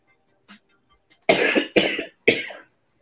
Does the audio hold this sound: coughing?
yes